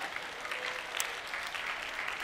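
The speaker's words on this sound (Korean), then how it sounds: "이런 박수는 원치 않습니다." A church congregation claps together during a sermon, a sustained even patter of many hands that holds steady for the whole stretch, moderately loud and close, with no speech over it.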